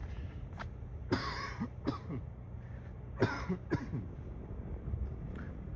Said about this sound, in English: I have a cough again coming